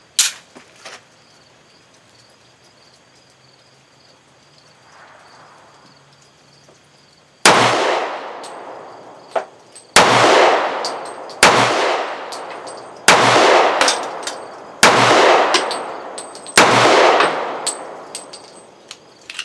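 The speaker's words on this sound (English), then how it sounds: "So I'm back out the range with my Firestar in 40 cal." Seven loud, close gunshots from a Firestar M43 pistol in .40 S&W at an outdoor range, each a sharp crack with a ringing tail, spaced roughly two seconds apart after a quiet opening stretch.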